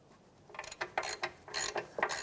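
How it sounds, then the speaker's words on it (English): A ratchet wrench cracks loose a 22mm nut on the tie rod of a 2007-2013 Acura MDX, giving a close run of quick mechanical clicks in short bursts. "we're going to loosen up this nut here, which is going to be a 22mm"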